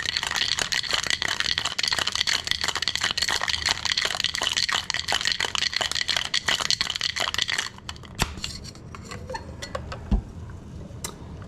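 Ice cubes rattle hard and fast in a cocktail shaker for several seconds, then the shaking stops and a few scattered clinks and knocks follow.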